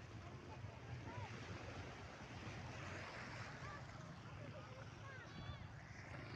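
Continuous surf washing at a beach at Monte Maria in Batangas City, a broad steady roar mixed with wind buffeting the microphone, with faint voices in the background.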